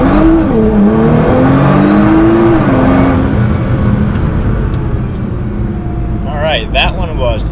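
A tuned Nissan GT-R accelerates hard from a standstill on a flat road in a 0-60 run, its engine note climbing loud and close inside the cabin before easing off, with someone speaking near the end.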